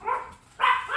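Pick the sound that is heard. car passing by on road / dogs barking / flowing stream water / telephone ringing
dogs barking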